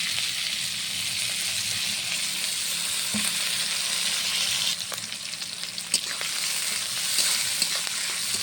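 Jackfruit and shrimp fry in mustard oil with green chilli, onion and garlic, a loud, even sizzle up close, broken by spatula stirring and scraping about midway.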